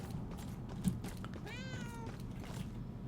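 Cat in the video game Murdered: Soul Suspect gives one clear, drawn-out meow midway through, heard over a low steady ambient rumble with a soft thump just before.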